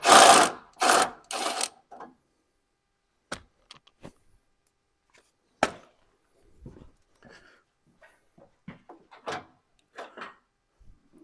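The last bolt comes out of a header panel on an older Ford pickup. A few loud buzzing bursts of a power tool up close give way to sparse metallic clicks and taps with quiet gaps between them.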